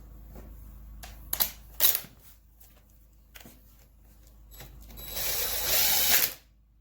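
Bolts being fitted by hand to hold a transfer case in place on a Mahindra Roxor during a hard-shifting repair: a few close metallic ratchet clicks and clinks, then a longer burst of ratcheting near the end.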